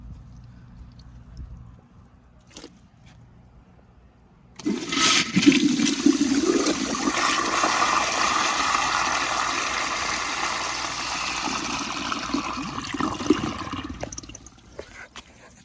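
A 2000 American Standard Colony toilet with a flushometer valve flushing at full pressure: after a quiet start and a click, a loud, forceful rush of water surges for about nine seconds, then tapers off into trickling.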